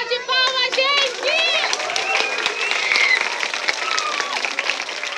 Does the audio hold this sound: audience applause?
yes